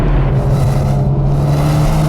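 A 2021 Toyota Supra with an 8-speed automatic pulls hard, its engine a loud, close, continuous drone throughout the short stretch.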